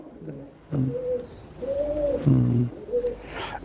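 Pigeons coo in several throaty, rolling phrases that start and stop unevenly. The calls are close and clear over a faint background, and no speech is heard.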